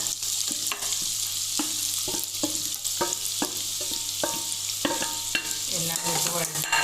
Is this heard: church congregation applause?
no